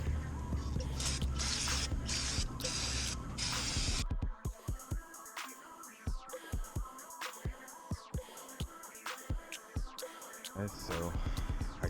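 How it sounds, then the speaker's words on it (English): Aerosol cans of brake cleaner and then primer sprayed onto a car's valve cover, a steady hissing spray for about four seconds, followed by a series of short, sharp spray bursts with gaps between them and another longer hiss at the end. "I'm going to spray it down with some brake cleaner just to get everything nice and good, and then I'll spray it down with some primer."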